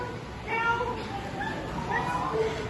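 A cat meows from the bushes in a few short, thin calls, set against a faint outdoor background.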